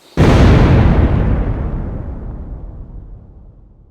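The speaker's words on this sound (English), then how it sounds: "This is a 12-gauge sabot slug that we tried out of the smoothbore rifle" A single loud 12-gauge Fiocchi armor-piercing sabot slug fired from a smoothbore rifle: one sharp, close blast followed by a long rolling boom that decays over several seconds, with no talking.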